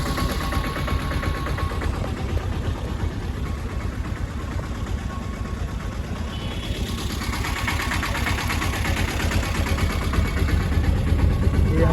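An auto rickshaw engine runs steadily under a passenger ride, a close, buzzing mid-pitched drone with rapid rhythmic pulsing that grows slightly louder toward the end.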